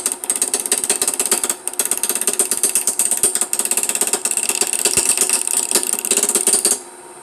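Wood lathe turning green wood into a Christmas tree shape during a woodturning demonstration, with a loud continuous rapid mechanical clatter and ratcheting that runs steadily before stopping near the end.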